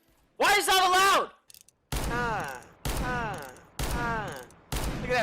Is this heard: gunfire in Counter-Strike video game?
yes